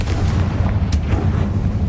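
A loud, rumbling blast from the Confringo fire spell in Hogwarts Legacy, a short dense burst of explosive noise close up.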